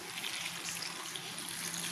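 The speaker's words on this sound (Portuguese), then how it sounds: "E agora eu vou acrescentar água" Water is poured into a pot of salted cauliflower for soaking, making a steady continuous trickle and splash close by with no talk over it.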